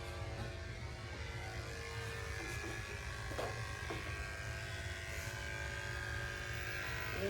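Electric clippers trimming small mats from a Schnauzer's armpits, a steady close motor hum running continuously at even volume with faint scraping touches as the blades work through the fur.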